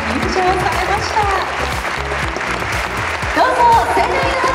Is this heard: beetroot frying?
no